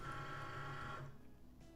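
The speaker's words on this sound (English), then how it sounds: "we're going to go ahead and put it in the Cricut and load the mat" A Cricut cutting machine loads its mat with a faint, steady mechanical whir of rollers that fades out about halfway through, and no talking.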